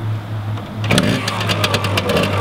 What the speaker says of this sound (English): Start first kick, engine tight as a glove, no rattles or anything, runs beautifully.